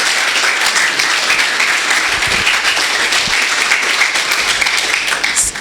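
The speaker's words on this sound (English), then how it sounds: "One last round of applause for Zahir Kidwai" An audience at an inspirational event gives a final round of applause for Zahir Kidwai, a loud, continuous wash of clapping that holds steady throughout with no clear pauses.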